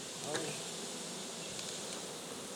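Honey bees buzz steadily around hives in an apiary during a French beekeeping visit, a continuous close drone with no talk.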